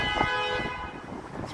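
A car horn sounds a brief, tonal honk at a busy Chicago intersection in the West Loop, fading into a breezy wash of street noise and wind.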